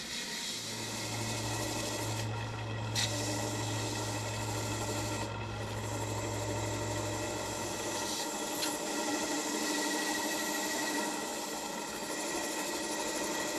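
A maple wood vase is buffed and polished, giving a steady rubbing hiss over a low motor hum that cuts out partway through while the friction noise continues.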